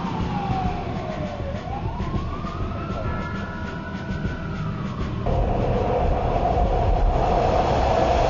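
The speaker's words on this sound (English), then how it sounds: "The Bay Area Rapid Transit, San Francisco's underground train system" San Francisco BART underground train running, a steady rolling rumble overlaid with a whining tone that glides down, rises, then holds before the noise swells louder near the end.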